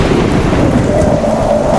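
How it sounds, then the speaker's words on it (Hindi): Heavy rain pours steadily during a thunderstorm, a dense, continuous low rumble and hiss with no pauses, loud and close throughout. "उस रात तेज बारिश हो रही थी, बिजली चमक रही थी"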